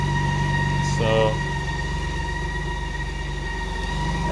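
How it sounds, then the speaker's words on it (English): A BMW K1600 motorcycle engine gives a steady drone with a faint high whistling whine running throughout, and a brief tonal burst near the start. "and the lovely whistling sound of a K1600 engine."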